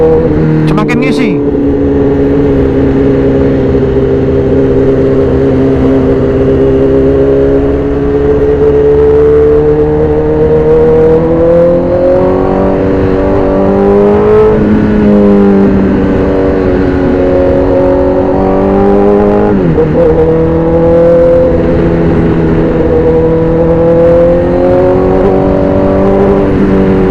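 Engine of a 2012 Honda CBR 1000RR 20th Anniversary motorcycle fitted with a new header, droning steadily and loud through the whole stretch with rising and falling revs, while a rider talks over it.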